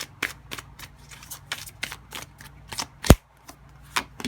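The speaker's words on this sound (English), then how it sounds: "So I'm going to grab 2 tarot cards here." Tarot cards handled and drawn from a deck, a series of quick papery flicks and shuffles in irregular rhythm, close and fairly quiet, with one sharp tap near the end.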